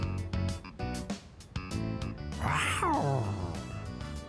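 A cat-like yowl in Persona 3 Reload rises and falls once, clearly heard over the game's steady background music.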